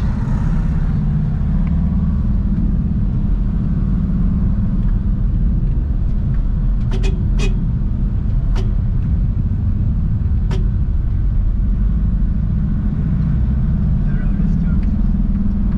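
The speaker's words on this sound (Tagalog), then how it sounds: "Ang daming sasakyan ngayong araw na to." Heavy road traffic near a church in the Philippines, a loud continuous low rumble of many passing cars with a few sharp clicks partway through.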